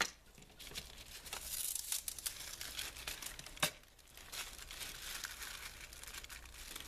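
Delicate tissue paper crinkles and tears softly under a cutting blade, a faint run of papery rustles with one sharper tear in the middle.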